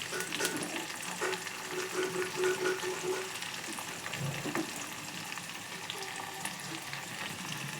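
Capsicum curry with curry leaves stirred in a frying pan, a soft steady sizzle close by with light scraping as the spoon moves through the vegetables, fairly quiet and with no voices.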